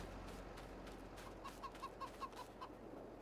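Chickens clucking in the Farming Simulator video game, a run of short evenly spaced clucks over a quiet low background hum, fairly faint and with no talk.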